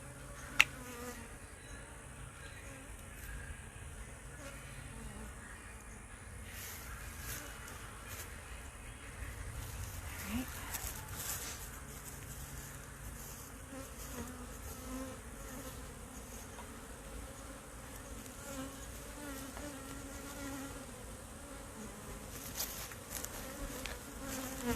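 Honey bees buzz steadily around an opened hive during an inspection, a dense, continuous drone of many insects close by with no talk over it.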